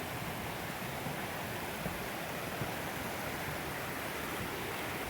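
A small creek flows near the remains of an old iron furnace at Cumberland Gap, Tennessee, giving a steady, even rush of running water that stays constant throughout, with no voices.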